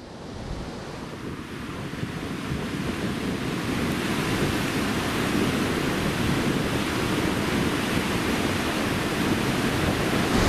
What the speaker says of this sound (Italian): il mare.